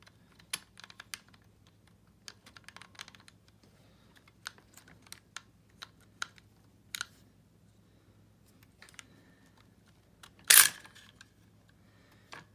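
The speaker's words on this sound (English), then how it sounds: "remove the chrome bolt carrier group and show it to you." Quiet metallic clicks and small clacks as a chrome Wilson Combat bolt carrier group is taken out of an AR rifle, with scattered light taps and one louder rattling burst near the end, all without speech.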